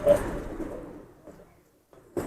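Pigeons cooing close at hand, a low murmuring coo that fades out, then a brief quiet before another sound starts at the end.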